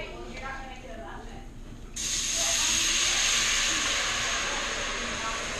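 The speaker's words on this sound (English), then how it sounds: "I'm going to deglaze with some white wine" White wine hitting a hot pan where venison shank has been browning, bursting into a loud, sustained hiss of steam and sizzle that holds steady for several seconds.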